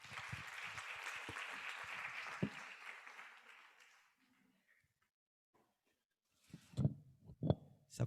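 Crowd applause welcomes a speaker at a Christian gathering, a dense, steady clapping that lasts about four seconds and fades to silence, followed by a few loud, isolated knocks near the end.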